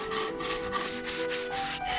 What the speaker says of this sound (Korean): 나무를 잘라서 곱게 사포질도 합니다